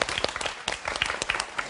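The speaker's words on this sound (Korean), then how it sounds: "우리 박수 한번 칠까요?" A studio audience at a Korean talk show claps together in a dense, steady burst of applause, fairly faint and brief, with no talking over it.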